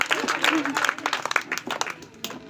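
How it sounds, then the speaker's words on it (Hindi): Audience clapping for a student during a school play at a prize ceremony, brisk scattered claps under talking, fading toward the end. "तालियां होनी चाहिए भाई भगत के लिए।"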